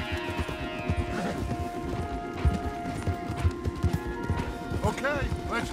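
Horse hooves clatter at a gallop in Red Dead Redemption 2, steady rhythmic beats over a forest trail mixed with game sounds and music, with speech over the top.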